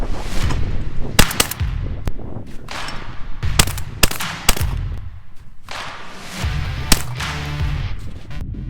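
Gunshots crack out one after another during range shooting practice, sharp loud reports spaced irregularly, some in quick pairs, with echoing tails between them and no talking.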